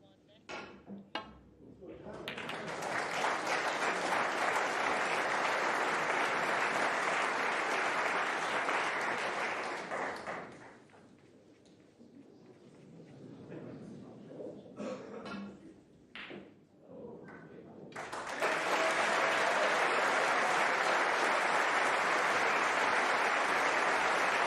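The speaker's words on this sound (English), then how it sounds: "The applause is for Jack Jones, and the first seeded player has fallen here at the Crucible." Applause from a snooker audience at the Crucible greets Jack Jones, swelling into two long sustained bursts separated by a quieter lull with scattered claps, knocks and faint voices.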